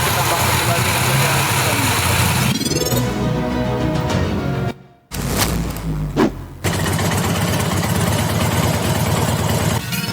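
The second conventional trainer engine, used for tune-up practice, idles loudly with a dense steady rumble and clatter, cutting out briefly at mid-clip before running on again.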